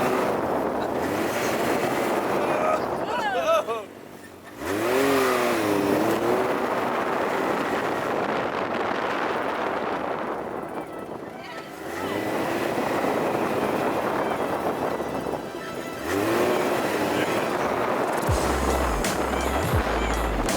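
A Can-Am X3 XRS Turbo side-by-side drives and accelerates outdoors, engine roar mixed with heavy wind buffeting across most of the stretch, with brief dips where the noise drops before surging again; faint voices appear now and then.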